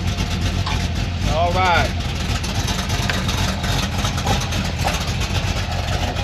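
A car engine idles with a low, steady rumble through an equal-length exhaust fitted with cutouts, close and continuous, while someone speaks briefly over it.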